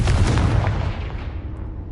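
A Confringo fire-blast spell bursts in Hogwarts Legacy, a loud deep boom with crackling rumble that decays and fades out over a couple of seconds, no voices.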